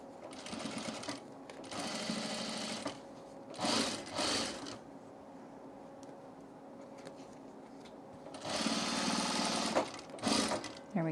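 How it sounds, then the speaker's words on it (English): Close-up sewing machine stitching a quilted tool case, its fast mechanical chatter running in several bursts with pauses in between, loud and without talk. "so let's stitch this on"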